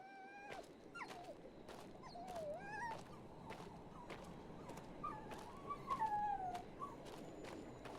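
A dog whimpering in the horror game Maid of Sker, with repeated high, wavering whines and yelps rising and falling over a quiet, low background, with faint sharp taps recurring throughout.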